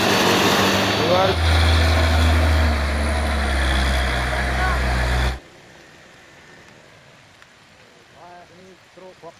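A Hino trailer truck under heavy load climbs a hill, its engine roaring loud and close for several seconds before cutting away to a much quieter stretch with faint background sounds.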